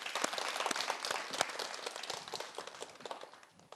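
Applause at a youth theatre-forum performance in Kyrgyzstan: a dense patter of many hands clapping at moderate distance, strongest at the start and thinning out toward the end.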